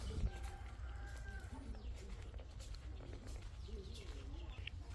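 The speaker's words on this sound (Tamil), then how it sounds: "தெரியுதா காக்கா சத்தம் குருவி சத்தம்" Crows and sparrows call outside a traditional mud-tiled house, with scattered faint chirps and caws over a steady low ambient hum, moderately distant and continuous throughout.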